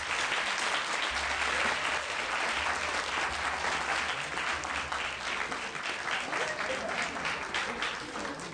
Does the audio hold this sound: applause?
yes